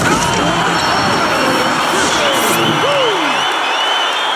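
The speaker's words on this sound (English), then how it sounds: "they got the crowd buzzing there" An arena crowd buzzing and cheering in an NBA 2K12 basketball game, a steady loud roar throughout, with a commentator's voice talking over it.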